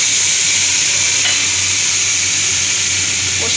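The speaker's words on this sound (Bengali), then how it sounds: "ফার্স্টে আমি নুন হলুদ লঙ্কা গুঁড়োর জলে গুলে দিয়ে দিচ্ছি।" Loud, steady sizzle and hiss as salt, turmeric and chili powder mixed in water hit a hot pan, a constant close frying roar with no pauses.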